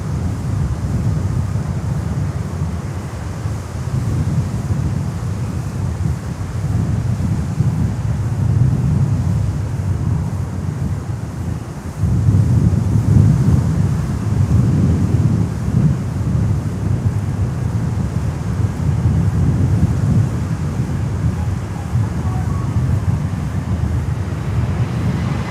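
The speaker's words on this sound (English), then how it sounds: "Wow, that was a hefty wind gust." Strong wind gusts buffet the microphone at Miami airport, a heavy continuous rumbling roar that swells and surges, growing louder partway through, with no voices.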